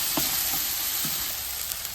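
Crushed ginger and green chilli masala for biryani fries in hot oil, a steady, loud, close hiss of sizzling with faint stirring knocks underneath.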